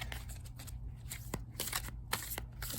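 A deck of tarot cards being shuffled by hand, soft papery riffles and flicks repeating in quick bursts, close and fairly quiet with no talking.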